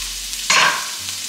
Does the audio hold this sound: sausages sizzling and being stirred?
yes